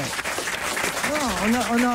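A studio audience applauds a guest on a French TV comedy show, the clapping running through the whole two seconds beneath a prominent voice.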